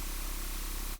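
A harsh, aggressive synthesizer note from the Vital soft synth holds as a dense, noisy buzz for about a second, then cuts off abruptly.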